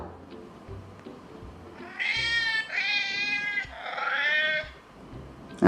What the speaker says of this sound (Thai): มันจะมีเสียงแมวแปลนะครับ เป็นภาษาแมวนะครับ